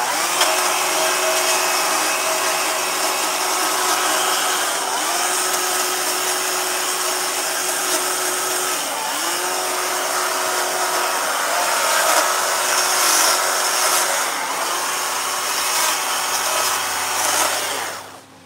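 A chainsaw carves wood into a dog, its engine whining loud and steady for a long stretch with slight rises and dips in pitch as it bites into the wood, then cutting off near the end.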